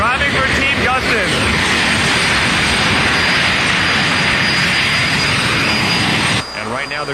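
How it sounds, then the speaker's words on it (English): Jet dragster afterburner blasting during a pre-race firefight at a drag strip, raw kerosene dumped and ignited, a loud continuous roaring jet rumble that cuts down sharply near the end, with people talking over it. "when the drivers dump raw fuel, that's kerosene, into their afterburner and light it on fire"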